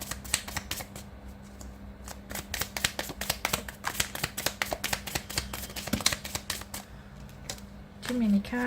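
Repeated crisp riffling and flicking of tarot cards being shuffled in quick bursts, close up, with a brief voice near the end.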